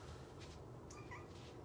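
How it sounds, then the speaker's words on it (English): A house cat meows softly a couple of times in an indoor room, brief high calls rising over a steady low background hum. "All right, kitty cat."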